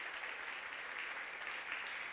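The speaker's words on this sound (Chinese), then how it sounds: "拍手，拍手，拍手，感谢主。" A church congregation claps together during a Sunday worship service, steady continuous applause from many hands filling the room without a break.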